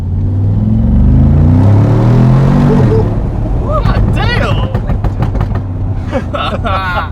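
A Mercedes G-Wagon engine revs hard and roars loudly, rising in pitch as it accelerates, with a few pops and crackles near the end.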